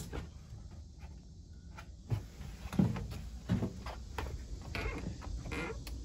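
A latch panel door on a 2020 IC CE school bus being worked open: a series of clunks and rattling knocks, louder near the middle, over a quiet background hum.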